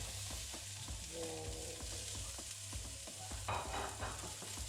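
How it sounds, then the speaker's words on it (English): Mirepoix vegetables frying in cooking oil in a pot: a steady, soft sizzle runs throughout, with repeated scraping and stirring knocks from a utensil, close and without talk. "Add some cooking oil. And in with the mirepoix that we prepared earlier on."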